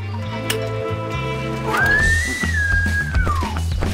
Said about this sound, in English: let's get our mating whistle out